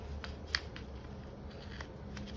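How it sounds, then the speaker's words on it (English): Small scissors, blades gummy with adhesive, snip through planner stickers in a quiet room; a single crisp cut stands out against faint background hiss. "My scissors are getting kind of gummy."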